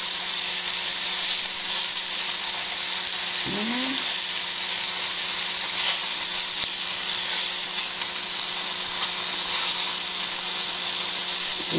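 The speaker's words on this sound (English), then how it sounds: "Just going to want to brown each side." Beef browning in batches in a hot pan for an Irish Guinness stew gives a steady, loud, close sizzle and crackle that holds for the whole stretch with no talking.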